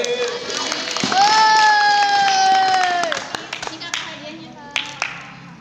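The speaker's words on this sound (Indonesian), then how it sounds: "Tepuk tangan sama Habil." Children clap together at a mosque Ramadan iftar gathering for a Quran school, with lively claps and a sung or whistled tone rising over the crowd, then scattered claps trailing off amid voices.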